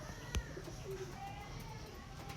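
An Andhra Lalsira pigeon coos softly a couple of times, low and fairly close, with a brief knock early on and faint room noise behind, no talk.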